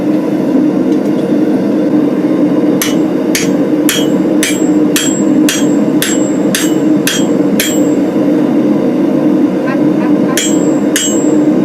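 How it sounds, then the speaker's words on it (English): A blacksmith's hammer pounds a mandrel through a hot forged tomahawk head in a quick run of about ten sharp metallic strikes, followed by a pause and two more blows over a steady background hum. "Then I'll peen the sides as it goes along so it stretches as I pound the mandrel through"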